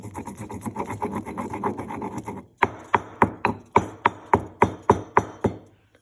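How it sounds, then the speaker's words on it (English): Peppercorns and a clove piece being ground for an immunity tea: a steady scraping, rubbing grind gives way to about ten crisp, evenly spaced pounding knocks, loud and close, then the sound stops. "I need to grind the peppercorn and my clove piece."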